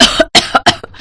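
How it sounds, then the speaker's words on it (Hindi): A cartoon mother coughs in three or four harsh, close bursts in quick succession, with short gaps between them and no talking. "तभी खांसते हुए उसकी माँ ने उससे कहा"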